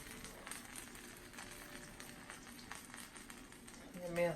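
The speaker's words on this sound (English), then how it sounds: "Sizzling away." Chicken pieces sizzle while frying until crispy, a faint, steady crackling hiss with small pops running throughout, heard quietly from nearby.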